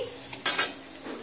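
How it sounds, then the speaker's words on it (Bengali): Raw cumin seeds stirred in a pan with a metal utensil produce a few quick, close scrapes and clinks over a faint sizzle. "কাঁচা জিরাটা সুন্দরভাবে একটু নেড়ে চেড়ে নিচ্ছি, নেড়ে চেড়ে ভেজে নিচ্ছি"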